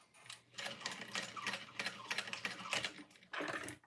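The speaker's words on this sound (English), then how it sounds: "So I'm gonna really quick do a little box stitch at the top." A sewing machine stitches a quick box stitch on a strap, a faint, fast rapid ticking run of stitches in short clustered bursts with a brief pause before a final push.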